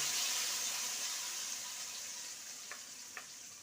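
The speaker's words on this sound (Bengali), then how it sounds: "ভালো করে কষিয়ে নেবো মশলাটা" Onion, tomato, garlic and ginger masala frying in a pan makes a soft, steady hiss that fades slightly, with two faint taps of a spoon near the end and no talk.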